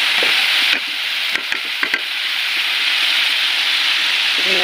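Eel and taro curry stirred in a pan over gas heat: a steady close sizzle with a few sharp scrapes and clacks of the spoon against the pan, alone, with no talking.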